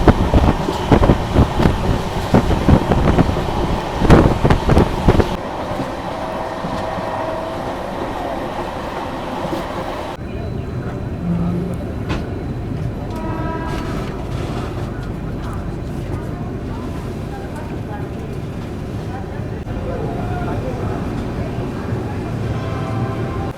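Marathwada Sampark Kranti Express pulling in at Chhatrapati Sambhajinagar station, heard from on board: a loud rattling rush at first, then a steadier, softer rumble as the train slows, with voices in the background.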